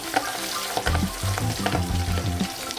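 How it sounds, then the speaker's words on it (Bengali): Pabda fish frying in hot oil for a Bengali fish curry, with a steady close sizzle and scattered crackles plus a few clinks of a utensil stirring in the pan. "তেল গরম হয়ে গেছে, আমি মাছগুলো ভাজার জন্য ছেড়ে দিচ্ছি।"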